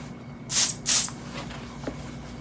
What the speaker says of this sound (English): And let's go in for a spray.